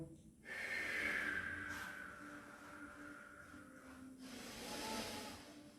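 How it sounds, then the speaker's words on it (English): Deep breathing in through the nose during a qigong exercise, a long close airy inhale with hissing nasal noise, swelling and fading over several seconds in a quiet room. "Breathing in through the nose, opening up the chest, opening up your heart center."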